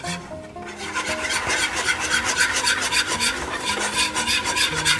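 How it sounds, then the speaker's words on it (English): Flour is whisked into pan gravy made after frying moose minute steaks, a steady rapid scraping and rasping of the whisk against the pan that carries on without pause, fairly loud and close. "whisk away at it."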